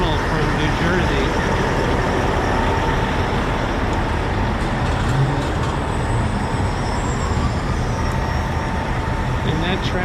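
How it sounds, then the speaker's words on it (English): Constant road traffic pouring out of the Holland Tunnel from New Jersey in Lower Manhattan, a dense unbroken roar of cars, trucks and buses with occasional brake squeals, loud and close throughout. "all this traffic facing me is coming out of the Holland Tunnel from New Jersey"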